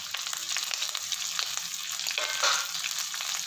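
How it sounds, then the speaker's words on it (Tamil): Green chili, ginger and curry leaves frying in hot oil for a temple offering dish, a steady close crackling sizzle with small pops, continuous and fairly loud, with no voices. "ஒரு அஞ்சு நிமிஷம் நல்லா பொரியட்டும்"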